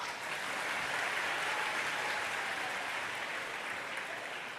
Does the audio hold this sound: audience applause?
yes